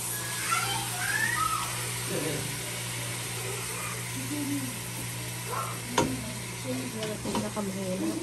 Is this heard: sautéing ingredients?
yes